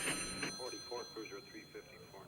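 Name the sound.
telephone ringing in a movie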